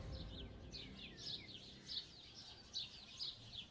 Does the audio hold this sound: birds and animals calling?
yes